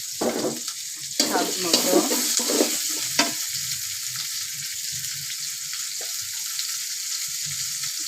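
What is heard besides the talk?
stirring prawns with ridge gourd frying in a pan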